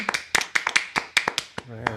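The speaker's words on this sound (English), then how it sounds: "Pat Lamana, let's give her a round of applause." A small audience at a song and poetry swap claps for performer Pat Lamana, a sparse, close run of individual hand claps in an uneven rhythm, thinning out toward the end.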